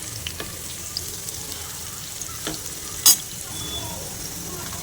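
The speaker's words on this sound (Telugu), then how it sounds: "కాకరకాయలను ఇలా షాలో ఫ్రై చేసుకోవాలండి." Bitter gourd pieces shallow frying in oil on a low flame, giving a steady soft sizzle with occasional scrapes and clicks of stirring, alone and moderately close.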